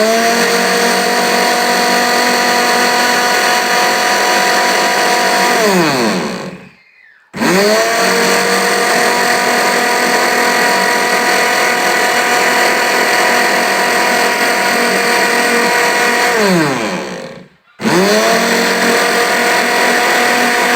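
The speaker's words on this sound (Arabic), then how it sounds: "ضربت الزبادي اللبن وحطيت عليه علبه الزبادي اللي هي الخميره في الخلاط" An electric kitchen blender whirs steadily as it mixes milk with a tub of yogurt for homemade yogurt, running loud and close in long bursts with two brief stops where the motor winds down and restarts.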